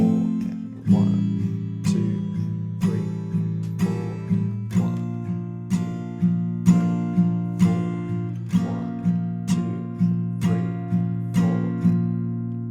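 Acoustic guitar strummed downward in steady eighth notes through the chords of a song, a regular pulse of bright strokes over ringing low strings, close and clear with no voice.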